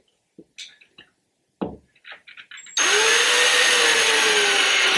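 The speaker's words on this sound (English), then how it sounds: "Can I just keep drilling holes?" A power drill bores holes into a closet wall during a master closet makeover, starting after a few short knocks and thuds and then running as a loud, steady whine for the rest of the moment.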